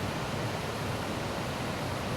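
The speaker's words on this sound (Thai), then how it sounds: "เลยมีเสียงน้ำตก" Tat Ton waterfall in the forest near Ban Non Yang, Thailand, a steady broadband rush of falling water, continuous and even throughout, with no voices.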